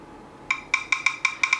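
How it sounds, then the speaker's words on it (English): Key-press sounds from typing on a Chuwi VX1 phone, about seven short bright electronic clicks in an uneven quick rhythm, close and fairly faint, with no talk. "so when you type, it has that sound or noise."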